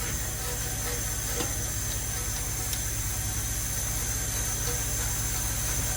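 Cleaner hisses steadily as it is sprayed onto a car engine in a workshop, a soft, continuous spray held at a low, even level with no talking.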